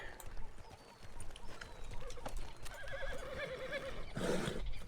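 A horse in the Find Me video game gives a loud, wavering neigh partway through, followed by a brief burst of clip-clop and snorting, over a constant in-game ambient background with someone talking quietly.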